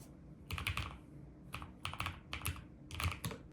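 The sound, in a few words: typing on a NuPhy Air75 V3 low-profile wireless keyboard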